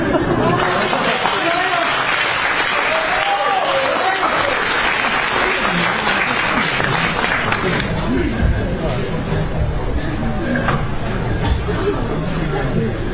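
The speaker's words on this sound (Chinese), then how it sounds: "谢谢朋友们的热情掌声。" Warm, steady applause from a theater audience at a live crosstalk comedy performance, thick and continuous throughout with crowd murmur mixed in.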